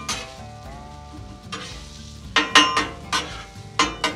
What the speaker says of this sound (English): We want to make sure the shallots are nice and caramelized.